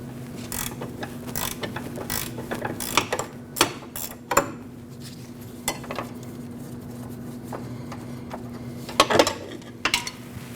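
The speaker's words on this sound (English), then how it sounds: "Take your 15mm wrench" A 15mm wrench loosens the nut on a rear sway bar link of a 2014–2023 Jeep Cherokee, giving irregular metallic ratcheting clicks and clanks over a steady low hum, with a few sharper knocks near the end.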